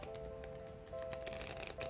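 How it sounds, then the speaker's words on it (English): Tarot cards are shuffled close up in quick, soft riffling bursts, faint and papery, over a low steady background hum. "Here I am. Shuffling for you."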